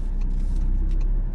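A car on a driving test rolls along with a steady low engine and road rumble inside the cabin, continuous and moderately loud throughout the short stretch.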